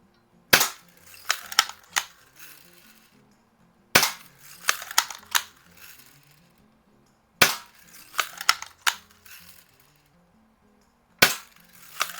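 Sharp, loud gunshots crack at a can in four clusters of several quick shots each, with brief pops and metallic rattles between volleys and silent gaps in between.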